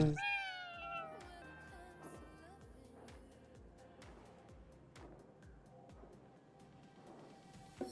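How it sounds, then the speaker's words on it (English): A cat meows in Ghostwire: Tokyo with one clear, rising-falling meow at the start. Steady rhythmic game music and ambient tones follow underneath at moderate volume, with no talk. "And a kitty cat."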